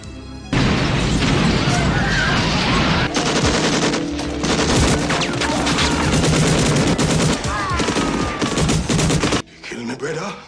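Heavy sustained machine-gun fire and booming explosions from a shootout in the action film Marked for Death, loud and dense for about nine seconds before cutting off abruptly, with a brief quieter tail.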